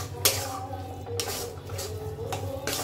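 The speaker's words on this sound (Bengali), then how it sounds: "এটা আর ঠিক 2 থেকে 3 মিনিট একটু নাড়বো।" Chicken masala paste stirred in a pan, a few sharp metal spoon scrapes and clinks against the pan over a low steady background.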